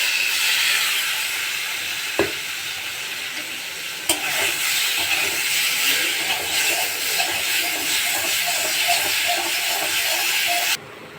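Mango pieces hit a hot pan with turmeric for mango chutney and sizzle, a steady loud frying hiss with a couple of sharp knocks early on. The hiss runs unbroken until it drops away abruptly near the end.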